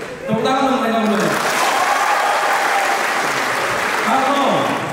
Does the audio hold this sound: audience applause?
yes